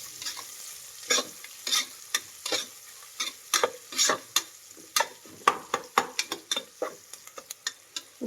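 Long-sliced onions frying in a pot for tomato biryani, a low sizzle punctuated by frequent sharp scrapes and clacks of a ladle stirring, irregular and close, growing busier toward the end.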